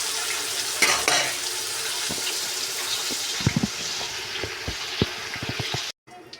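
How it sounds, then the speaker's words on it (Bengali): Meat frying in oil in a pot for biryani, a steady sizzle with scattered stirring clinks and scrapes, close and moderately loud, ending abruptly. "এগুলোকে সব একসাথে ভেজে নেব"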